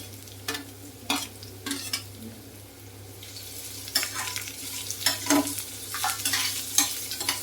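Finely chopped onion sizzles in a pan for a cucumber fry, stirred with intermittent scraping strokes that grow busier toward the end, over a low steady hum and without speech.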